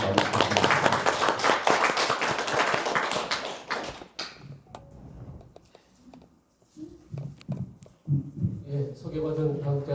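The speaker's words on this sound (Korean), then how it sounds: "다시 한번 박수로 한번 교수님 맞이해주시겠습니다" Dense applause from a seated audience at an academic conference welcomes a professor, steady for about four seconds before fading into scattered claps, with a voice speaking through the quieter stretch.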